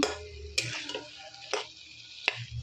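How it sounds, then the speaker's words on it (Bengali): Chicken mince being stir-fried for khichuri, with a steady low sizzle broken by a few sharp scrapes of a spatula against the pan, close and fairly quiet with no talking. "আমি কিমাটা কষাচ্ছি, তোমরা দেখো"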